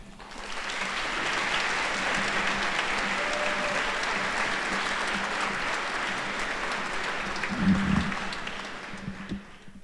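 A school audience at Montverde Academy claps steadily for about ten seconds, a full, even wash of applause welcoming a guest speaker to the stage.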